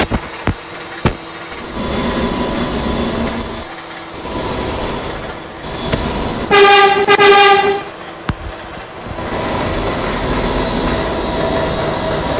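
Subway train running through a curve on the express track in the Potato Transit Authority game, a steady rumbling ride with a few sharp clicks and a loud horn blast in the middle before the rolling noise resumes.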